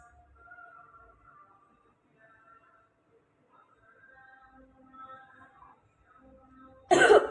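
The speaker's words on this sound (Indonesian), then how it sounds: "Yang terakhir adalah teknik batuk efektif." A single loud, forceful cough bursts out at the end as part of an effective coughing technique demonstration in a nursing lesson, following several seconds of quiet, faint breathing sounds.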